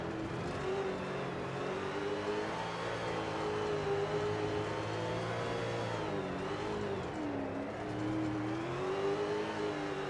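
Off-road racing truck engines roar in SRX: The Game, a continuous loud revving drone that rises and dips in pitch as the trucks work through corners, with no talk.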